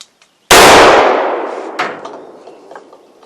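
A single loud shot from a .38 revolver with a 2.5 inch barrel, fired outdoors at a target about 20 yards out, with a sharp crack and a long fading echo.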